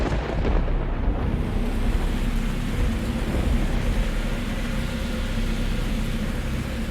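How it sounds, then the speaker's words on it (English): Heavy monsoon rain pours steadily over an open tropical garden with glass-covered conservatories, with a deep rumble of thunder rolling underneath, loud and continuous throughout with no voices. "Monsoon rain is just one threat facing the garden's largest structures."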